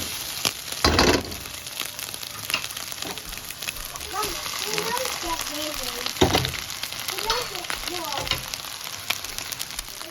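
Egg fried rice sizzles steadily in a hot pan while a curry prawn stir fry is cooked, a constant crackling hiss with a few louder clatters, and a voice talks over it.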